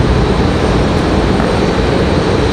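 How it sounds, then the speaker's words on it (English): An American Airlines jet touching down at Raleigh-Durham International Airport makes a loud, steady broadband engine roar and rush that holds evenly throughout, with no speech. "American Airlines 2321 touching down from Miami."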